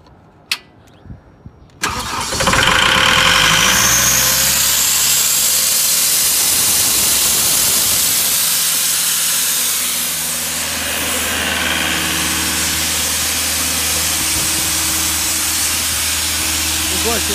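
A 2012 Atlas Copco XAS185 portable diesel air compressor cranks and fires after a few clicks, then settles into a loud, steady engine drone with a strong hiss of air pressure building, running continuously close by.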